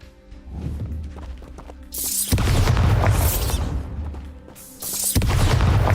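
Bombarda spell blasts in the Hogwarts Legacy wizarding game, two loud booming explosions with rumbling debris following each, close and heavy, with faint background sound between them.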